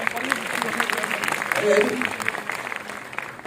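Moderate applause from an audience at a film Q&A session after a screening, clapping steadily under a faint murmur of voices.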